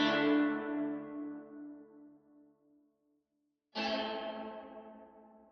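Guitar notes played through a Fractal Axe FX III with reverb ring out and decay into a long smooth tail, then fall silent before a second strummed chord blooms with the same spacious wash.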